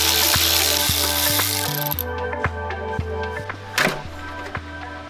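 A ratchet clicks rapidly as it removes heat shield bolts from the exhaust header of a 9th generation Toyota Corolla, with steady bursts of close, metallic pawl ticking and brief pauses between strokes.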